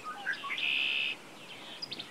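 Songbirds at a coastal wildlife refuge in spring: a few bright chirps lead into a sustained high trill, followed by softer, scattered calls, all clear against a quiet background.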